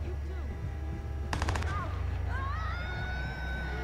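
Rapid gunfire bursts from a sniper firefight in the video game Watch Dogs, a sharp cluster of shots midway over a low rumbling game soundtrack, with a siren-like whine rising afterward.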